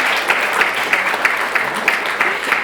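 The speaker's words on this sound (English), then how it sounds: "I believe that deserves a round of applause." An audience at an education event applauds with a rhythmic, fairly loud clapping that pulses steadily and evenly, the whole crowd clapping roughly in time.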